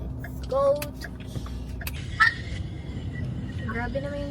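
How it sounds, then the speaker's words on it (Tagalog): Road traffic with cars passing rumbles low and steady beneath people talking, with a brief louder swell of a passing vehicle. "Grabe naman yung traffic dito."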